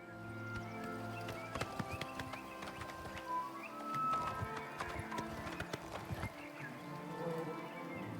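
Horse hooves clip-clop steadily in Oblivion Remastered, a rhythmic run of close, moderately loud hoofbeats, with a brief whinny partway through.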